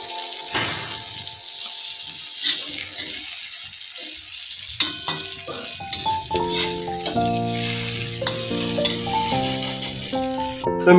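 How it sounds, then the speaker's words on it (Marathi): Mini pomfret frying in a pan in a Konkan home kitchen, a continuous close sizzle with bursts of crackle, overlaid midway by clinking and tonal kitchen clatter, no voices. "कोकणामध्ये हा मिनी पापलेट आहे, तुम्ही आता बघितलात फ्राय करतोय मी"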